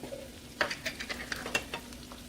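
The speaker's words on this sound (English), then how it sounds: "I'm going to throw me some garlic in here" Garlic is stirred into a pan of diced small onion sizzling on the stove, giving a soft steady frying hiss broken by several close scraping stirs.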